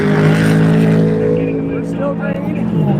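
GT3 race cars, a Corvette and a Mustang, roar around Daytona during the Rolex 24, a loud sustained engine drone with a shifting pitch as they pass, while a commentator talks over it.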